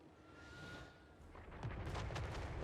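Cannon fire in Total War Warhammer 3, a faint rumbling barrage of distant booms that builds into denser, louder blasts toward the end, with a siege gate under bombardment.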